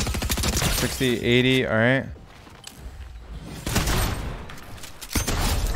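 Rapid bursts of automatic gunfire from a gun in a solo arena shooter game, loud and close, cracking in quick fusillades between stretches of a player's talk.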